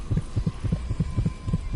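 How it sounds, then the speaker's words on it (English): A beating heart item in the video game Dishonored throbs with a low, steady double-pulse rhythm, repeating about every quarter second over a constant hum. "That is the heart beating."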